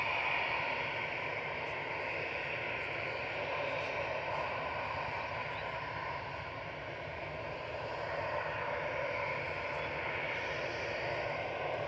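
An Airlink ATR 72-600 turboprop from Dublin, heard at an airport, gives a steady broadband engine roar throughout, moderately loud and sustained with a slight dip midway, with no talk over it.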